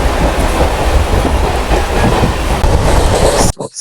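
A passenger train running from Trichy to Chennai rumbles loudly and steadily with clattering wheels and rail noise, continuous until it cuts away abruptly near the end.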